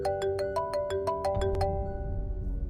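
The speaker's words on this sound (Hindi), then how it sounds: "अब ये फोन क्यों कर रहे हैं?" A phone ringtone plays a quick repeating melody of bright electronic notes, close and clear, over a low background rumble.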